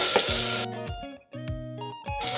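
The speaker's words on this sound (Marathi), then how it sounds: "कांदा घेतला होता बारीक कट करून, तो घालून घेऊया" Finely chopped onion goes into hot oil spiced with whole garam masala for a mutton curry, giving loud bursts of sizzling at the start and end over steady background music.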